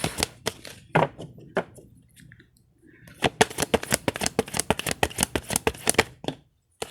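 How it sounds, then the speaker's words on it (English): A deck of unicorn oracle cards being shuffled by hand: a few scattered riffles, a pause, then a long run of quick, crisp card slaps close by. "I'm just shuffling the first one to get a card out of the unicorn deck."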